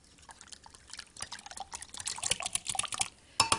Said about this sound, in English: Now just mix these together